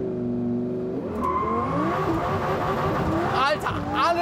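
Lamborghini Huracán Performante tuned to 1,500 hp accelerating hard, engine roaring and revving up through the gears with all four tyres spinning, loud and close, with someone talking excitedly over it.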